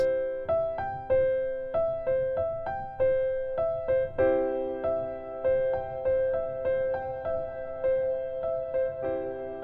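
A simple, plainly played melody over sustained chord tones, notes entering one at a time at a moderate steady pace, no voices.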